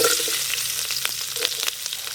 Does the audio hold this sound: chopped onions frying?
yes